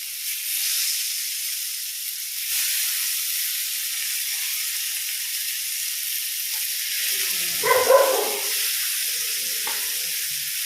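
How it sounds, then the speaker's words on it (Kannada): Pieces of sardine fry in hot oil on a tawa with a loud, steady hissing sizzle that runs throughout, and a brief bubbling burst rises near the end. "ನೋಡಿ, ನಾನು ಒಂದೇ ಸಲಕ್ಕೆಲ್ಲ ಹಾಕಿದ್ದೇನೆ ಫ್ರೈ ಮಾಡಲಿಕ್ಕೆ"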